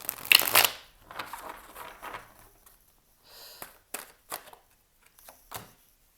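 Tarot cards being shuffled for a love reading: a dense, crisp riffle burst up close at the start, then softer scattered slides, taps and flicks of the deck, quiet and intermittent.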